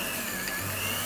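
An electric hand mixer creams butter with brown and white sugar, giving a steady, close whirring hum with no talk; the motor tone drops and thickens partway through.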